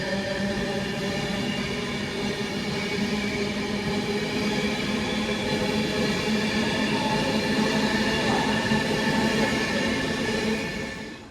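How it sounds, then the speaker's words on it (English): An Avanti West Coast Class 390 electric train runs through Stoke-on-Trent station on a diverted route, giving a steady, loud rolling roar with a high whine. The sound holds level for about eleven seconds and then starts to fade at the end. "Avanti West Coast on divert."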